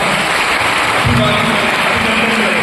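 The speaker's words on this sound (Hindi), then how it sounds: "आए ऐसे श्रेष्ठ दासों के लिए जोर से ताली बजाइएगा।" A congregation at a Christ Methodist Church revival prayer meeting in Delhi claps loudly, a dense, sustained patter of applause close by.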